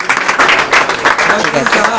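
An audience at a quiz event in Amravati claps steadily for a silver coin winner, a dense loud burst of applause that fills the whole two seconds.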